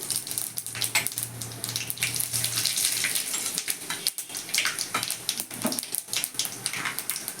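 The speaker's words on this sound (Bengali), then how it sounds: "ওই তেলের মধ্যে একটা তেজপাতা একটু পাঁচ ফোড়ন ফোড়ন দিয়ে দিলাম" Bay leaf and panch phoron spices sizzle in hot oil for a tempering, a steady close crackle and hiss with a low hum for the first few seconds, no voices.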